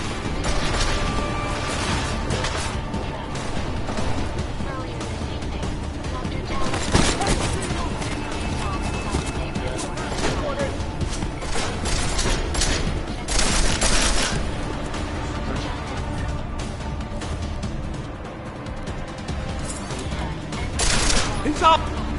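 Gunfire in Deus Ex: Mankind Divided, with repeated shots and bursts crackling steadily through a busy fight under frequent excited talk.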